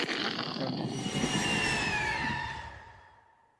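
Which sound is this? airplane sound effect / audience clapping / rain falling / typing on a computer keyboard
airplane sound effect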